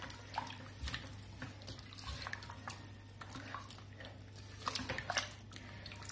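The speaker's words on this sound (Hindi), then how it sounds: "वाटर ऐड कर देंगे हम इसमें और इसको हमने अच्छी तरह से मिक्स कर लेना है" Water trickles and splashes into a pot of mutton and bottle gourd, a faint uneven pouring with scattered drips and no one speaking.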